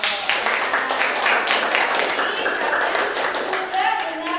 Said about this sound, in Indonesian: Kita beri aplaus lagi